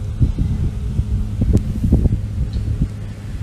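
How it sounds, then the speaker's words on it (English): Gusty autumn wind outdoors buffets the microphone in low, uneven thumps and rumbles, close and blustery, with no voices. "It's very windy out here today."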